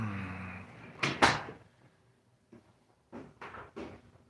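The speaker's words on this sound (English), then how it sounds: "Every time she hears the door open, she comes running." A door in a snowy garage setting opens with a couple of close knocks and a clunk, followed by softer scattered thumps and shuffles, with faint talk at the start.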